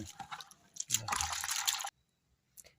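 Washed shellfish being squeezed by hand, with water dripping and splashing out in a close, wet burst lasting about a second, followed by near silence and one small splash.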